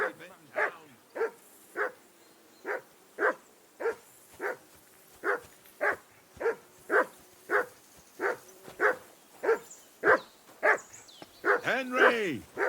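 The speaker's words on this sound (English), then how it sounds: "Whistle at that mutt of yours to stop barking!" A dog barks over and over in Kingdom Come: Deliverance 2, with about twenty sharp, evenly spaced barks at close range and a whimpering yelp near the end.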